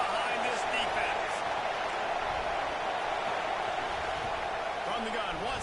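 A stadium crowd in the College Football 26 video game roars in a steady, dense wash of cheering before a big third down, loud and continuous from start to finish.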